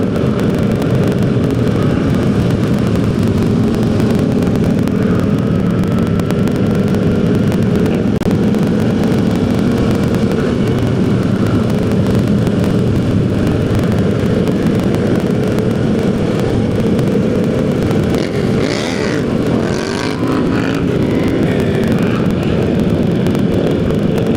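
Continuous loud engine and wind noise from a massive group motorcycle ride that includes MT-07s and riders setting up wheelies, a dense unbroken drone with brief brighter bursts near the end.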